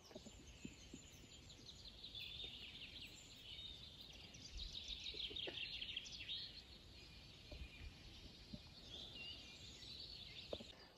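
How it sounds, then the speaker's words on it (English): Birds chirping and calling steadily through the morning air at Loch Sike, Scotland, a dense chorus of high trills and tweets at moderate distance, with faint low background noise. "A little bit of a noise from the birds this morning"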